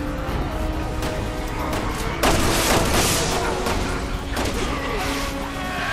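Gunfire in the Resident Evil 6 video game: sharp blasts and booms crack over a dense, noisy game soundscape, with one especially loud burst in the middle.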